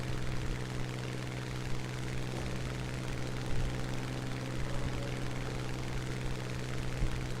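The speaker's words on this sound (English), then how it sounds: "Today I'll be flying the Hurricane Mk IIB." Propeller engine of a Hurricane Mk IIB, an early British tier 2 fighter in War Thunder, droning at a steady, loud idle-like hum throughout with no pauses or voices.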